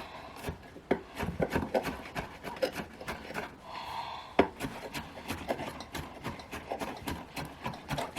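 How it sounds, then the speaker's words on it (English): Garlic cloves are diced finely with a knife on a wooden board, giving a steady run of close, crisp chopping taps with rubbing scrapes between them. "Dicing that up pretty fine because we don't want to bite into chunks of garlic"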